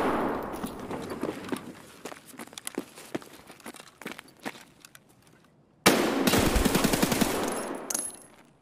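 Rapid gunfire in the shooter game Escape From Tarkov, with sparse scattered shots and footsteps first, then a loud sustained burst of automatic fire near the end, close and dense.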